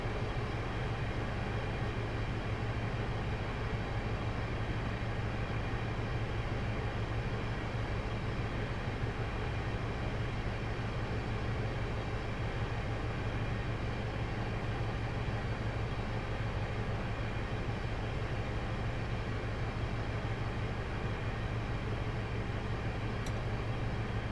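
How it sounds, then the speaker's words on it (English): HST train in Train Simulator 2017 coasting at around 30 to 35 mph on the Swansea to Bristol Parkway line, a constant loud rumbling drone of engine and wheels, steady throughout with no voices. "I'm just going to release the brakes and allow the train to coast along here at around 30 to 35 miles per hour"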